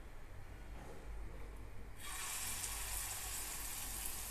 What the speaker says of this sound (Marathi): आपण आता यामध्ये आपले जे वडे आहेत ते सोडणार आहोत.